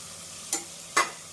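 Quiet background with two short scraping strokes of a utensil stirring spices and curd in a pan for tomato biryani, one about halfway through and a stronger one near the end.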